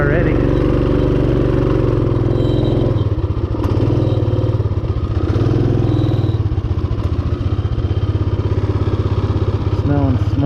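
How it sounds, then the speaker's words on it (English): A Rokon motorcycle with a burnt-up clutch labours close by in first gear on a steep hill climb, its engine droning steadily and loudly as the tires spin, with no break in the sound. "Spinning tires already."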